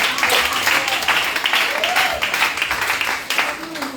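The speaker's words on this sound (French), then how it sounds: "Acclamons le Seigneur." A church congregation applauds in praise during a French-language sermon, a steady wash of clapping and crowd noise running throughout, with some voices mixed in.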